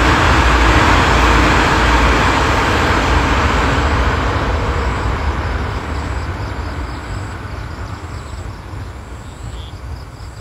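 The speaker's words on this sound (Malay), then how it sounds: "Nampak kereta api di belakang?" A train passes behind the scene, a loud, broad rumble and roar that fills the air at first and then slowly fades as it moves away, with no talking.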